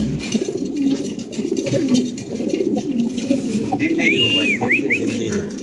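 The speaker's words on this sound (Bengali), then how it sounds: "মুন্ডিয়ানের ডাকটা দেখেন" Lahori Mundian pigeons coo in low, repeated throaty calls close by, with a few higher whistling chirps near the end and background room noise.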